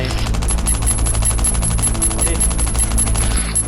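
A heavy machine gun fires in Last Island of Survival as a dense, continuous rapid burst of loud, evenly spaced shots with a low rumbling undertone, filling the whole stretch.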